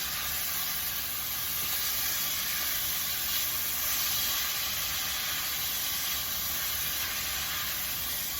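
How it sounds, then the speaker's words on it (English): Sausage cooking in a pan for a cornbread oyster dressing, putting out a steady, even hiss and sizzle that holds at constant loudness close by for several seconds, with no speech over it. "Okay, this is going on in with the sausage."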